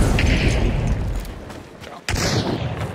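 Gunfire in the video game Hunt: Showdown sounds as booming shots near a row of houses, with one sharp blast standing out over a steady rumbling background.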